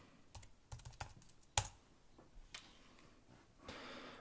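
Quick bursts of keystrokes on a computer keyboard, several short clicks in clusters with a sharper tap in the middle, close and fairly quiet.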